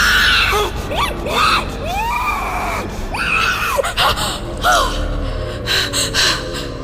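As a horror-story sound effect, a woman lets out sharp, strained gasps and short screams in repeated bursts, loud and close with pauses between them.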